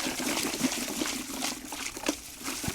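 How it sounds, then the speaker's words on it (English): Water sloshes and trickles steadily as dirty garlic bulbs are swished around in a container, with a few soft knocks underneath. "So, just so we're gonna slosh these guys around."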